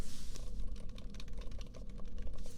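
Rapid, steady typing on a computer keyboard, close by and crisp, with dense clusters of keystrokes running without a break and no voices.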